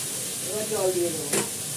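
Hot water is poured into a sizzling pan of Bengali shukto, giving a short hissing sizzle over a steady frying background, followed by a sharp splash-like burst near the end.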